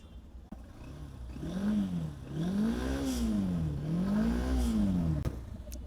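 Nearby, a 2019 carburetor motorcycle engine revs in smooth wavering surges above a throaty idle, holding a loud, even rumble with slight clatter and no voices.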